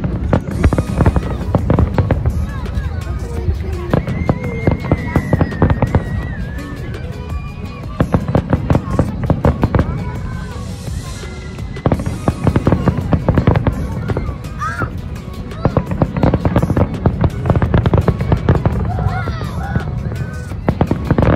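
A National Day fireworks show in Kuwait City: dense, continuous volleys of loud bursts and crackling explosions, with crowd noise running underneath throughout.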